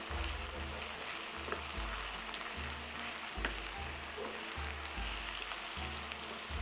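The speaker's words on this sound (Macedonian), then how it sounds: "Еве, месото убаво си се пржи" Ground meat and onions fry in a pan with a soft steady sizzle and crackle, faint and close, with a low regular hum underneath and no talk.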